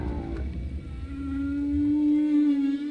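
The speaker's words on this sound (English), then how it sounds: "We know that humpback males sing during the breeding season." A humpback whale male sings during the breeding season, a low droning moan that rises into a long sustained tonal note, heard underwater with a steady background rumble.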